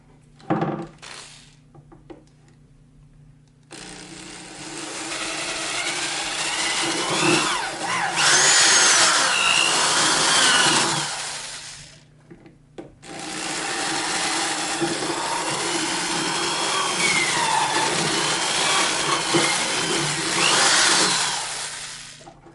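A power drill whines loudly in two long sustained runs, separated by a short pause, its pitch wavering as it bites into filled-in holes on a plastic blow mold.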